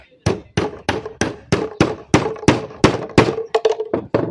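A hammer strikes repeatedly to drive the magnet out of a water heater reed switch, about fifteen sharp metallic knocks in a steady rhythm that quickens toward the end, loud and close with no talking.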